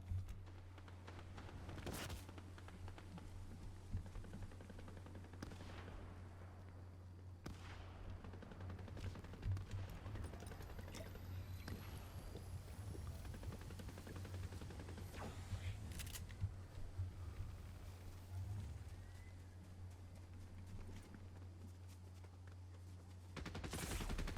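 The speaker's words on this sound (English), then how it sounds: "I hear gunfire." Video game gunfire: scattered gunshots and bursts of automatic fire, some near and some distant, crackle over a steady low electronic hum.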